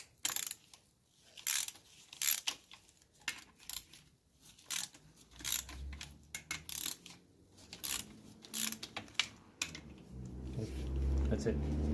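A ratchet with a 12-point socket works loose bolts on a Honda V6 engine during a teardown, giving quick bursts of clicking pawl ratcheting between pauses, close and moderately loud, followed by a low rumbling mechanical hum near the end.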